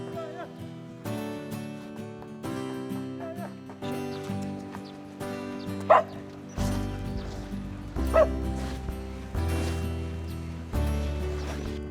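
Several dogs in Bhutan bark and yip in short repeated bursts, some near and loud, others further off, while waiting to be fed; occasional whimpers rise between barks.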